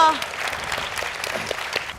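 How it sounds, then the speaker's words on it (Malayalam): Steady audience applause at a live comedy stage show, sustained and moderately loud for about two seconds, with a brief voice at the start. "നല്ലൊരു കൈയടി കൊടുത്തേ."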